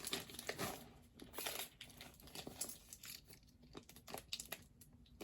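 A knife or cutter slices through a small cardboard box, giving a close, quiet run of crinkling, scraping and tearing bursts in an irregular rhythm.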